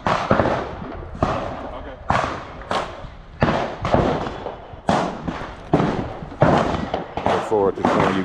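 Gunfire at the Angeles shooting range: a series of loud, sharp close shots at irregular intervals with echoing decay and people talking between them.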